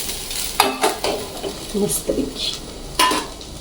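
A lid is set onto a pan of sautéed food, with a few sharp metallic clanks and scrapes of cookware and utensils over a low sizzle, close and moderately loud.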